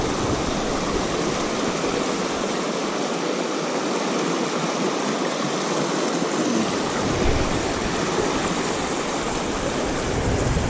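Fast-rushing river water at a fishing spot gives off a loud, continuous broadband roar, with a steady hiss that never lets up and no voices over it.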